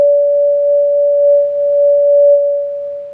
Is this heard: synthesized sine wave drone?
yes